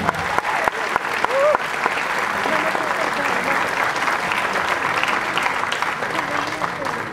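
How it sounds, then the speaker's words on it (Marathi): Loud, sustained audience clapping fills a film trailer launch event, dense and continuous with a few sharper claps near the start and faint voices underneath. "टाळ्या थांबल्या नाही पाहिजे."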